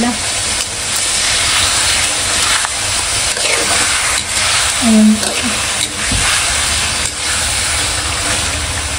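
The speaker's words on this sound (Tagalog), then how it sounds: "Haluin ko na po itong pinipritong pusit po ni Ban" Squid fries in a pan while being stirred, giving a loud, steady sizzling hiss that fills the whole stretch, with people talking over it.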